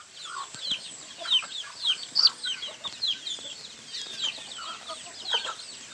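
Several mixed-breed chickens cluck and chatter in quick, overlapping bursts, a busy flock heard at close range.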